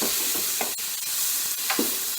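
Fresh tomatoes are stirred into slightly browned onions frying in a pan, a loud continuous sizzle broken by repeated scraping strokes of a spoon, close up and without talk.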